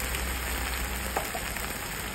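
Ginger garlic paste frying in a hot pan gives a steady, close sizzle like light rain, continuous throughout with a faint clink partway through, no talking.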